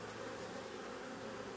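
Honey bees buzz steadily in a dense, continuous drone close by at an opened hive, with no voices over the hum.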